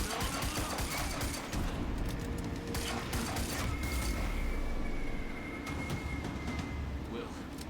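Enemy gunfire in the action game Quantum Break, sustained rattling shots over a rumbling background, fairly loud and continuous, with voices talking over it.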